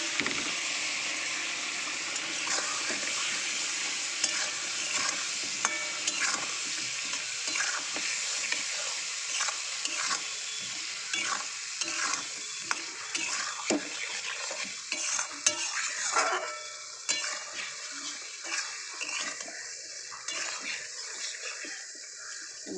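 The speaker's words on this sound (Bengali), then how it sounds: "মশলাটা ভালো করে আলুটার মশলাটা কষিয়ে নেব।" Potatoes with ground spices being stirred and fried in a pan, a steady sizzle under repeated scraping and clattering strokes of a spoon against the pan.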